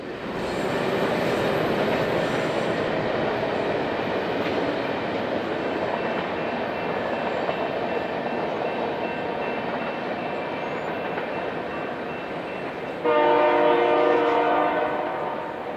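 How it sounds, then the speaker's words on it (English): A freight train made up entirely of tank cars from a Bunge plant in Decatur rolls past with a loud, continuous rumble, then a long, strong horn blast sounds near the end. "Tonight's train consists exclusively of tank cars from the large Bunge plant in Decatur"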